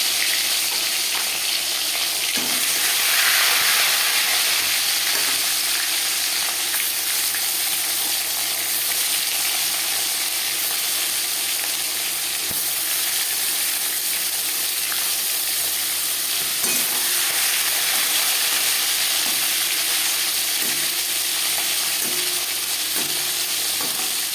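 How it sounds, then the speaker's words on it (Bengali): Steady, loud sizzling and crackling of latha (snakehead) fish frying in hot refined oil, continuous throughout with small pops and bursts, no voices. "চার চামচ রিফাইন্ড অয়েল গরম করে নিয়েছি এবার দিয়ে দেবো নয় করে রাখা মাছ"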